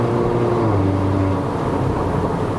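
A Mercedes-Benz A180 (W176) engine drones steadily at high revs before a gear change during a drive in Malaysia. The hum is loud and continuous for under three seconds, and no one speaks.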